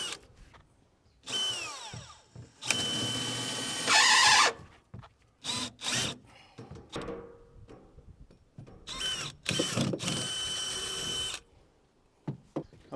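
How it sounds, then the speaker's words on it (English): A power drill whines in several bursts, grinding through a poly liner and the metal auger trough of a corn head with a rising scream, separated by short pauses and quiet clicks. "Once you drill through the poly, once you drill through that metal trough"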